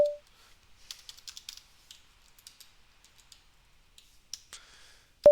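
Rapid, light clicking keystrokes on a computer keyboard enter a terminal command, with quick bursts and short pauses in a quiet room, bracketed by a brief tone at the start and the end.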